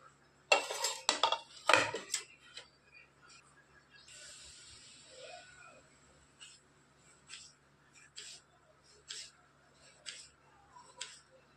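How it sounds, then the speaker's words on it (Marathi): Knife chopping brinjals finely on a board: a few loud cuts at the start, then a quieter, steady run of evenly spaced taps, close and alone. "आता बारीक चिरून घेणार आहोत"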